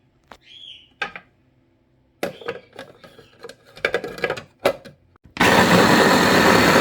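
A few clicks and short mechanical bursts, then a blender starts and grinds a marinade loudly and steadily to the end.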